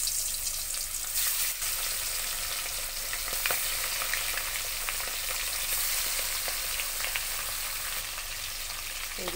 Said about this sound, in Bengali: এই যে দেখো, মাছটা ভাজা হচ্ছে